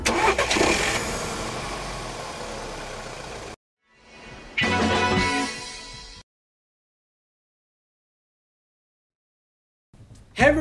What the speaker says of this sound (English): get the car running!